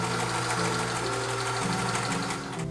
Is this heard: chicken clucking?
no